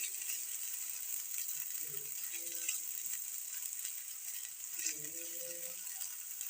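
Black cumin, green chili and ginger paste frying in a pan for a pea-filled kachori: a steady, fairly faint hiss of sizzling oil throughout, with a few soft utensil scrapes and clicks near the middle and end.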